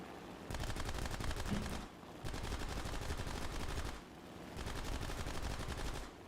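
Aircraft cannons firing in a combat video game, loud rapid bursts repeated three times with brief pauses between, no voices.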